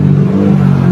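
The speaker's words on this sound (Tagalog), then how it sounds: "Kaya umuugong yung compressor saka yung motor, fan motor" A faulty household air conditioner with its compressor and fan motor running, giving a loud, steady low drone with a continuous whir, close to the unit and without voices.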